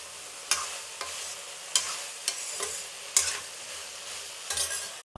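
A tomato dal simmering in a pot is stirred with a spoon, giving several spaced scraping knocks against the pot over a soft, continuous bubbling sizzle, with no voices.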